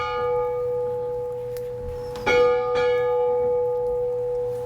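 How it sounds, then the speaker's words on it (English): A church bell rings with a long sustained hum, struck again partway through, its deep tones lingering and fading slowly. "As a boy, Ernest rang this very bell for funerals."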